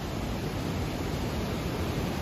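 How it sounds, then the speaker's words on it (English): Water rushes through a rocky gorge at Watkins Glen State Park, New York, in an even, continuous hiss of flow with no voices on top. "You can hear the water in the background."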